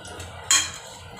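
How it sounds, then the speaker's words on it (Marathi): Dry fruits dropped into a pan of tempering on low heat for rice kheer give a single sharp clatter and brief sizzle burst midway, over a low steady background hum. "फोडणीला एकदम गॅस कमी ठेवायचा आहे त्यात आपण ड्रायफ्रुट्स घालून घेऊया"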